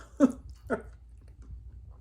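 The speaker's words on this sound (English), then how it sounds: "They're just crunchy, just a little bit of chew inside." Crunchy homemade grissini breadsticks flavored with rosemary, garlic, cheese and olive oil, bitten and chewed close up in two distinct crisp crunches followed by quieter chewing.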